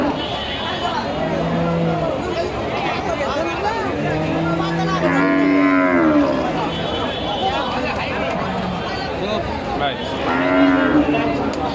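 Friesian dairy cows at a cattle market in Dhap, Bogura, letting out several long, drawn-out moos, some close and loud, over a constant hubbub of crowd chatter and people talking.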